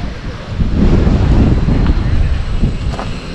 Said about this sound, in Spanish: Porque hay mucho viento